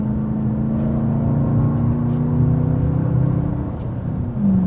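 A Chevrolet Camaro V8 of 432 hp roars steadily uphill, a loud, deep, continuous engine drone heard from inside the car with a slight swell and a shift near the end.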